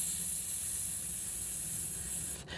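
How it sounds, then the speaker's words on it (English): Food sizzles in a hot pan, a continuous bright hiss with a low crackling underlayer, steady throughout and close, with no voices. "that hit the pan sizzle sensation where you hear that"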